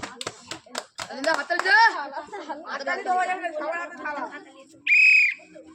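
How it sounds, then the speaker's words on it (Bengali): A group claps on request during a Bengali serving game with rice and chicken, a burst of sharp hand claps at the start, then lively talk and chatter take over, and a short bright whistle near the end. "হাততালি দাও সবাই, হাততালি দাও।"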